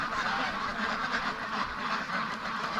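A flock of free range ducks quacks and honks in a dense, overlapping chorus close by, loud and continuous with no gaps, and no speech heard.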